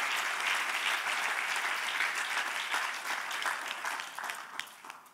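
A church congregation at a worship service claps steadily in a fairly soft, continuous wash of applause that thins slightly toward the end, with no talking over it.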